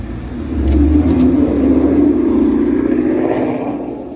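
Brandon's car, fitted with a drag pack exhaust, revs hard and holds a loud, steady, deep engine roar for several seconds before easing off slightly at the end.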